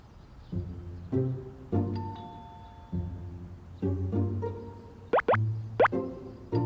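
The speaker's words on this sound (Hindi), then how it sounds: "दरवाजे की जो घंटी है बहुत देर से बज रही है।" A doorbell chimes a few times amid soft thumps and plopping sounds, with quiet gaps between, fairly close and moderately loud.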